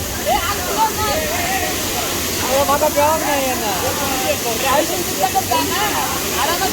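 Chander waterfall in Malvan, Konkan pours as a steady, broad rush of falling water, with voices and shouts mixed in over the constant roar.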